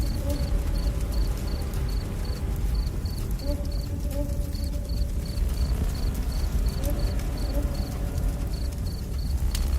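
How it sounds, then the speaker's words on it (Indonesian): Crickets and other night creatures chirp steadily across wide, dark rice paddies near Cibugel village in Sumedang, a dense and continuous insect chorus with a repeating high pulsed trill above a low rumbling background. "Suara jangkrik dan binatang malam lainnya saling bersautan di hamparan pesawahan yang luas dan gelap."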